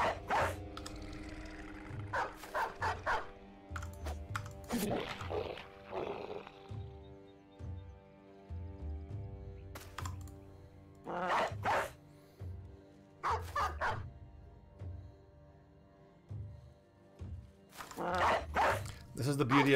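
A war dog in the Battle Brothers video game barks in short, scattered bursts against steady game music, while someone talks in between.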